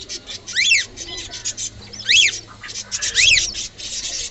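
A pair of cockatiels, a male and a female, chirp close by, giving repeated sharp, sweeping whistled calls in short clusters with brief pauses between them.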